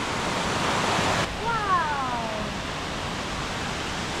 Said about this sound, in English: Now that is an amazing waterfall